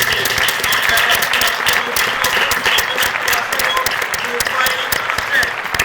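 Loud, sustained applause from a live audience at a Bible-recitation contest show, dense clapping filling the room throughout with crowd noise beneath.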